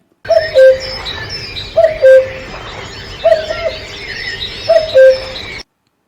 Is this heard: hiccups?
no